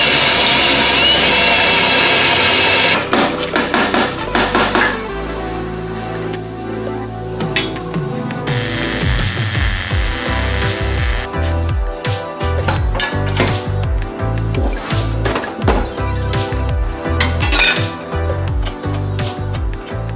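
A power tool grinds and cuts out rusted spot welds on a Toyota pickup's inner fender area. Loud whining and buzzing bursts alternate with clanks and metallic rattles as the tool stops and starts.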